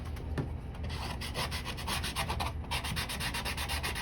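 Steady rubbing and rasping of a handheld sanding block with a handle working back and forth over a surface, continuous close strokes with a brief change in texture partway through, no voices.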